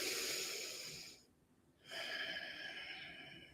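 Steady nasal breathing exercise, a long audible inhale and exhale through the nose with a brief quiet pause between breaths, close and alone.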